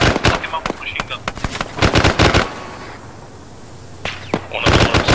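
Machine gun fire in a video game, loud clustered bursts of rapid shots separated by a short quiet gap, then resuming, with a voice speaking partly under the shooting.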